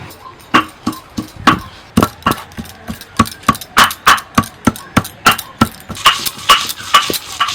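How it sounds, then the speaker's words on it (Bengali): Palta leaves and two green chilies being ground on a stone, heard as a close, steady series of rhythmic knocking and scraping strokes, roughly two or three per second, with no talking. "এবার পলতা পাতাটা বেটে নেব এর সঙ্গে দুটো কাঁচা লঙ্কাও দিয়ে দিচ্ছি"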